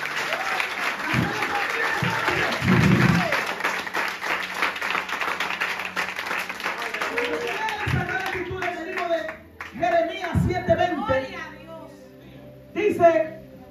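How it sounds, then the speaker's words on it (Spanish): A church congregation claps and applauds together during an evangelical service, a steady dense patter of hands under a preacher's voice, fading as he speaks alone toward the end. "Dale un aplauso a Dios esta noche."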